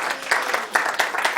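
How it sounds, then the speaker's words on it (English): Audience clapping at a shamanic ritual ceremony, a short burst of steady applause from a small crowd, fairly close, no talk. "applause?"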